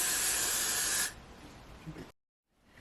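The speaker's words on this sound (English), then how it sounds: "Got to be glue spray." A loud, steady hiss of spray glue for about a second, then it stops, followed by quiet rustling and a brief silence.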